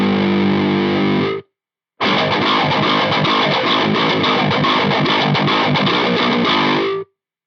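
Electric guitar driven through a Belcat distortion pedal and a Precision Drive clone in a live rig, loud, heavily saturated and buzzy; one short burst, a brief silence, then a sustained stretch of chugging distorted playing that cuts off abruptly.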